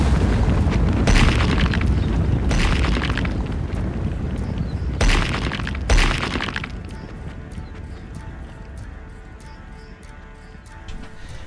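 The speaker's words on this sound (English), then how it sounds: "You hear cracking and shattering of the common hall" A building's common hall cracks and shatters as its front is pulled away from the foundation, with several loud crashing bursts followed by fading rumble and debris settling.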